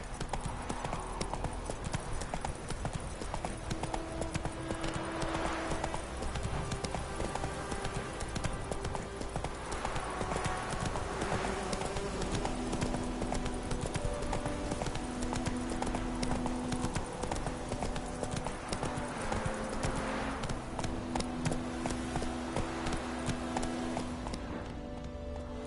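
The horse Roach galloping in The Witcher 3, rapid rhythmic clip-clop hoofbeats continuing for the whole stretch over a game ambience and music bed, with a few brief voices.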